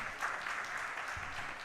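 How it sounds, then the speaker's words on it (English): Fans cheer steadily in an indoor arena as the Switzerland and Canada teams come onto the floor at the 2018 U18 World Junior Ball Hockey Championship. The cheering is a moderate, even wash of crowd noise with no clear talk. "You can probably hear some of the cheering of the fans hitting the floor"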